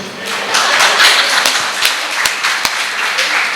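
A debate show audience in Virudhunagar bursting into enthusiastic applause, a dense wash of many hands clapping close and loud, with a few sharper individual claps standing out as it carries on.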